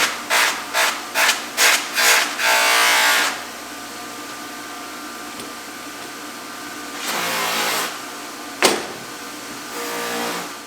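A buffing wheel polishes an antique Western Cutlery knife in rough rubbing bursts. A run of short strokes is followed by longer passes against the machine's steady hum.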